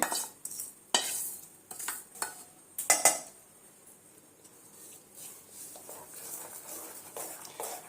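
A spoon stirs unniyappam batter mixed with roasted coconut in a bowl, giving a few sharp clinks and scrapes near the start. Quieter, softer mixing sounds follow, with no voices.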